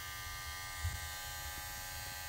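Conair Metalcraft electric hair clippers running steadily, a continuous close-up motor buzz with a faint brief bump partway through and no talking.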